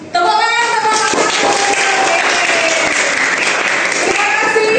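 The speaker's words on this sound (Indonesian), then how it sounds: "Tepuk tangan, tepuk tangan." A classroom of students applauds after a group finishes its presentation, with steady dense clapping that fills the clip and a few voices calling out over it.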